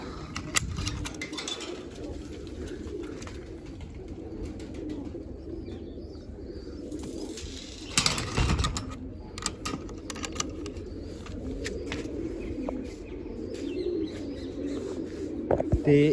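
Pigeons in a loft feeding their chicks coo steadily at moderate loudness, with scattered clatters, wing rustles and a louder burst of flapping midway.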